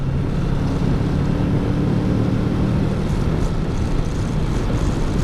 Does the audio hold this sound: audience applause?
no